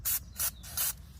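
Lubricant sprays onto the O-ring chain of a Suzuki SFV Gladius motorcycle in three short, close hissing bursts, each about a fifth of a second, with brief pauses between.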